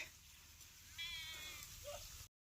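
A sheep in a village setting lets out one drawn-out, wavering bleat that rises partway through and ends abruptly, fairly faint against quiet outdoor background noise.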